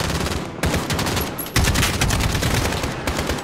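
Dense gunfire in the Call of Duty Modern Warfare campaign, continuous loud automatic bursts and overlapping shots filling the whole stretch with no talk.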